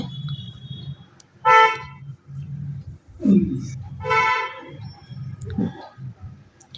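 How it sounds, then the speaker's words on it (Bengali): Car horns honk loudly in two long blasts over steady road traffic rumble beside a roadside flat, with a few shorter toots and a low engine drone throughout; no one speaks. "এত রাস্তার ধারে ফ্ল্যাট এত গাড়ির আওয়াজ"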